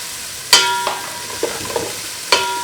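Sliced garlic frying in ghee in a home kitchen: a faint, steady sizzle sits under a few sharp metallic clanks of a utensil against the pan, spaced irregularly with quieter scrapes between them.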